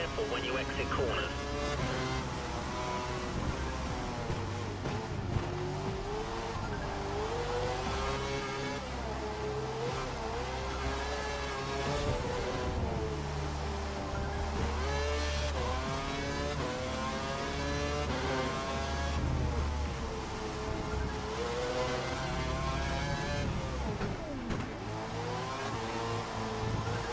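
A Formula One race car in F1 2012 drives a wet track, its engine revving and shifting in continuous rising and falling whines under a steady voice talking throughout.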